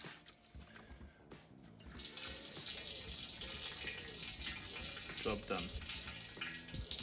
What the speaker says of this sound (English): Plug comes out, water drains out the back.